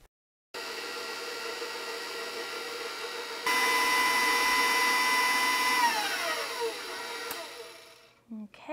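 Electric mixer whirring steadily through red velvet cupcake batter with red food coloring, loud and close, stepping up to a higher speed midway, then winding down and stopping near the end.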